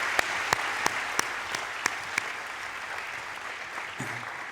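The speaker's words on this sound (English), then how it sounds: "please help me with a round of applause for all of our staff colleagues as well" At a graduation ceremony, applause for staff colleagues comes from a modest crowd as a soft wash of clapping, with a few sharp, distinct claps standing out near the start before it fades to a quieter patter.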